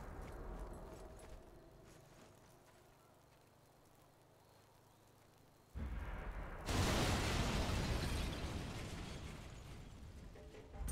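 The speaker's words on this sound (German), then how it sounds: "da hinten explodiert gerade ein komplettes Lager." A whole depot blows up in the distance in a World War shooter video game, a sudden loud burst of roaring blast noise that follows a quieter rumbling stretch and stays sustained and heavy.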